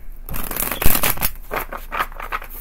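A gilded tarot deck is shuffled by hand in a series of brisk riffling bursts and soft flutters over a few seconds, close and fairly loud, with no speech.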